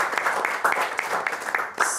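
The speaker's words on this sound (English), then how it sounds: "We should give a little round of applause" Applause from a seated audience at a political policy talk, a short burst of dense clapping that stays steady and fairly close for about two seconds.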